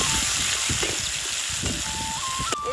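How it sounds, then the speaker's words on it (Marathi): Cumin seeds, two chillies, garlic cloves and onion dropped into hot oil give a loud, continuous crackling sizzle with bursts of popping, close by, and a faint tonal whine running underneath. "तेल गरम झालं आता त्याच्यात जिरे टाकून घेते दोन मिरच्या सतत दहा लसणाच्या कांदा घेतल्या त्या त्याच्यात टाकून घ्यायच्या"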